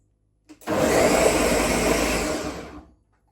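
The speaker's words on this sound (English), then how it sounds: "I'm going to blend the..." A blender whirs loudly and steadily for about two seconds, pureeing a homemade fish soup with okra, then winds down and stops.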